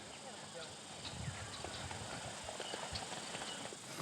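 Horses walk on a rural property along Coxs River, their hooves clip-clopping in a faint, irregular rhythm with people talking in the background.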